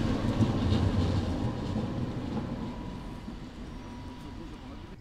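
A tram on the Woltersdorf line runs along its rails through the Köpenick forest near Berlin, a steady close rumble of wheels and carriage noise throughout with faint rhythmic clatter.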